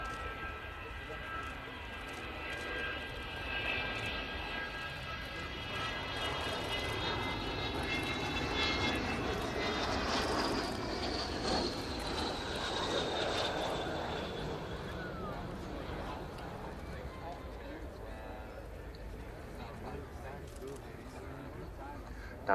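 An Avro Vulcan B2 jet bomber roars steadily overhead during an air show flying display, its engine noise swelling and fading across the sky, with people talking in the background.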